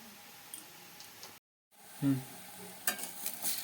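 Lentil fritters frying slowly in hot oil, a soft steady sizzle with light stirring, interrupted by a brief silent gap and then some clatter toward the end; a voice speaks faintly at times.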